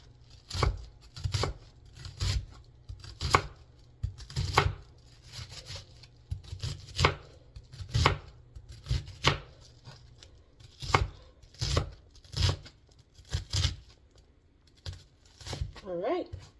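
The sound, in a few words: knife roughly chopping vegetables for taco salad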